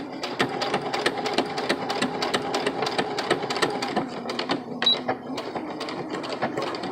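A sewing machine fitted with an invisible zipper foot runs in a steady, rapid stitching rhythm, pausing briefly near the end for a lock stitch before carrying on, close and clear with no voices.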